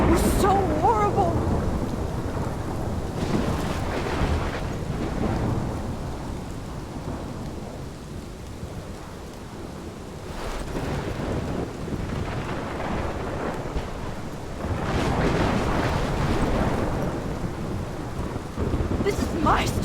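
A thunderstorm in the Life is Strange video game: heavy steady rain with wind, and deep thunder rumbles rolling in repeatedly and swelling loud near the start, middle and end.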